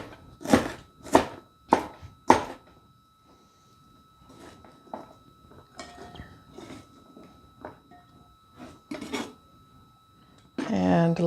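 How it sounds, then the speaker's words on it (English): A knife chops vegetables on a cutting board for an oil-free, salt-free vegan tempeh chili: four loud, sharp strikes in quick succession, then softer scattered taps and kitchen clatter, ending in a steady burst of noise. "I'm giving it some extra chop here"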